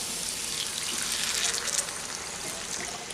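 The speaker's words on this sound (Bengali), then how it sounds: "এবারে এর মধ্যে আমি জল দিয়ে দিচ্ছি ডালটা সেদ্ধ করার জন্য" Warm water is poured into a pan of mango dal to boil it, making a steady, close rushing gush that lasts for the whole few seconds.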